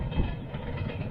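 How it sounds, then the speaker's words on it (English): A train from Gyumri on the Yerevan–Gyumri railway in Armenia passes close by with a steady, loud rolling rumble of wheels on track. "Here's one of the trains now. This is coming from Gyumri."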